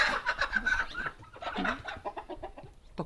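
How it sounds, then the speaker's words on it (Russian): Chickens squabble and cluck close by in a farmyard, with a burst of agitated squawks followed by a rapid run of shorter clucks. "куры там подрались"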